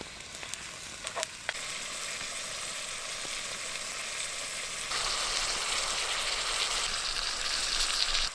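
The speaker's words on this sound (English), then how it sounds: "Brown up the beef, of course." Ground beef browning in a Dutch oven at a winter snowshoe campsite, giving a steady soft sizzle and frying hiss with a few small clinks early on, growing brighter and louder midway as cooking continues.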